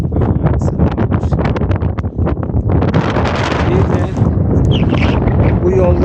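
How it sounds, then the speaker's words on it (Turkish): Wind buffeting the microphone in gusty, rumbling bursts outdoors on a seaside road, with a voice talking through much of it. "Şu anda biraz esinti"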